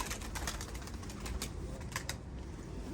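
Pigeons kept in a loft coo and flutter close by, a soft continuous murmur dotted with quick wing flaps and scratchy movement.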